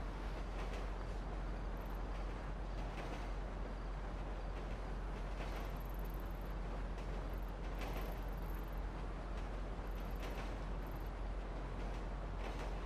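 A train rolls past in the video game GTA V Online, a steady, loud, dense rumble with high rattling bursts that fills the whole stretch without a break.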